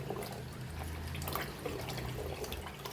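Water splashing and trickling while a stained cloth is washed by hand, a steady low wet sloshing with soft dribbles, fairly quiet and continuous throughout.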